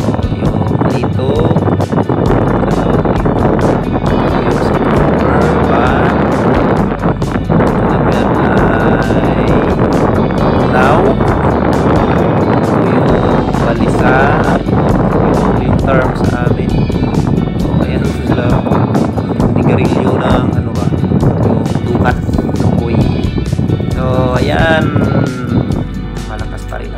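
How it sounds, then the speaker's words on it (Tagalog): Strong wind sweeps over a rough sea during a small-boat trip, producing a loud, constant roar of wind buffeting the microphone, with people talking throughout. "malakas pa rin ang hangin, maalon pa rin."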